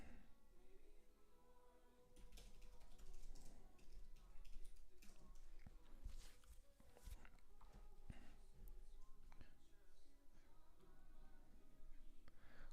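Fast, irregular clicking of fingers typing on a computer keyboard at a coding workstation, faint and continuous over a low room hum.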